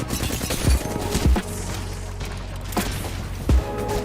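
Gunshots fire in a video game, several loud low booms spaced irregularly over a continuous rumble of game sound, with no talking.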